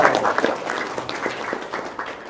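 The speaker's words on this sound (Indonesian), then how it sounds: "tepuk tangan dong" A small group claps on request during an informal talk, brisk and fairly close applause with distinct individual claps, fading slightly as it goes.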